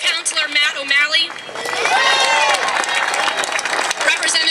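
An outdoor crowd at a 2013 marriage equality rally in City Hall Square, with scattered shouts at first, then dense, sustained applause and cheering swelling up and holding loudly to the end.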